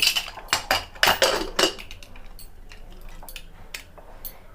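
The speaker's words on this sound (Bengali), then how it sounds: "ঠিক আমরা এখানে কুকারের ঢাকাটা চাপা দিয়ে দেব।" Metal clatter of a pressure cooker lid being set down and closed over chana dal, a few sharp clanks up front then quieter scraping and clicks, close by with no talk.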